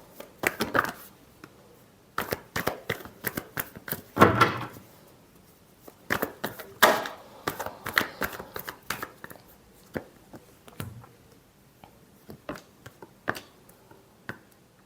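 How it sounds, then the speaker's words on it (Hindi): Tarot cards being shuffled by hand in rapid bursts of crisp riffling and soft slaps, close and fairly loud, with short pauses between rounds and no talking. "Last shuffle."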